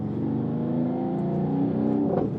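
A 2020 Mercedes-AMG GT53 4-Door Coupe engine hums steadily and close, rumbling low with a slight rise in pitch, as if the gear is about to shift.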